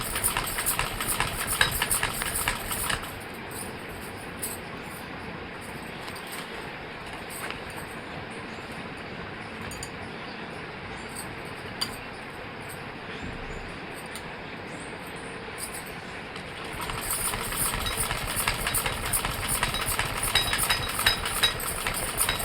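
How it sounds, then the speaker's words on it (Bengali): A sewing machine stitches a curtain fabric twice over. Two bursts of rapid, rattling stitching open and close the passage, with a quieter stretch of low mechanical hum between them. "দুবার সেলাই দিয়ে দিলাম, তাহলে মজবুত হবে।"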